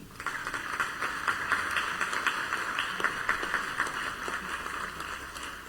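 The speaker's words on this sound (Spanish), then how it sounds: "para quien pido un aplauso." Applause from an audience at a book presentation event, a dense continuous patter of clapping that holds at an even, moderate level throughout without any speech.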